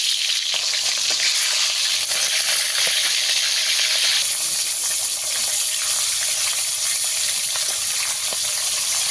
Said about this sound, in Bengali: তেল ভালো করে গরম হয়ে গেছে, লবণ হলুদ মাখিয়ে রাখা মাছ দিয়ে দেব।